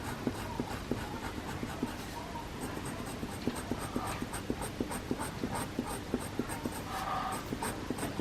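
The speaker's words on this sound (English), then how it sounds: "Oh gosh, she's having a good snore." A dog snoring in a steady rhythm of soft, raspy breaths, close by, with faint scratching in the background.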